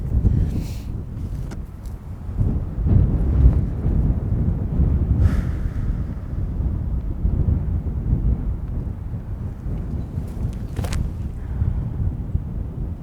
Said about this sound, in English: Lots of headwind.